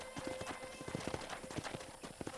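Horse hooves clip-clopping at a steady trot in the video game Red Dead Redemption, mobile version, a quick even rhythm of soft thuds over a constant hiss of background noise.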